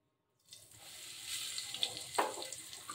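Bay leaf, dried chilli and cumin hit hot mustard oil after a pinch of asafoetida, bursting into a sudden hissing sizzle from silence that builds and crackles, close and fairly quiet.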